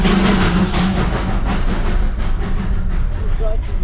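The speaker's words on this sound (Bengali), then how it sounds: "যাওয়ার পথেই আমরা টয় ট্রেনের দেখা" A Darjeeling toy train passing on a winter hill route gives a loud, continuous rumble and rattle of rail wagons nearby, with some voices faintly mixed in.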